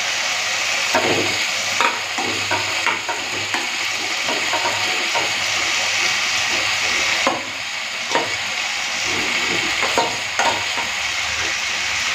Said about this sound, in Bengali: এখন আলু ফুলকপি ভাজাটা দিয়ে দিচ্ছি।